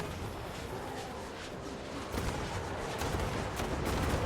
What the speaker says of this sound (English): And then we get all of these explosions.